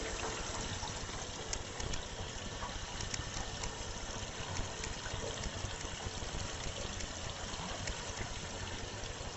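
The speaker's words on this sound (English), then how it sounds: "You can hear the water running right now." Water running steadily through a newly replaced bathtub drain, trap and PVC piping, a continuous close trickling wash with no talking.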